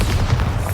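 A short, deep boom from the Bombarda blast spell in Hogwarts Legacy, loud and near, rumbling low for under a second.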